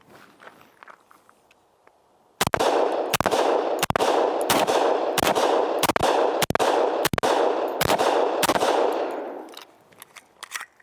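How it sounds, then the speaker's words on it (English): Ten sharp gunshots from an Extreme Hunter round fire into an IIIa armor target, evenly spaced bangs over a ringing, steady background after a quiet start, loud and close. "We'll see if it is fixed now by running through 10 rounds of the Extreme Hunter into this target."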